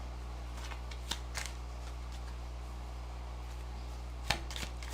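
Tarot cards being shuffled in a few quick riffling bursts, soft and close, separated by quiet stretches over a low steady hum.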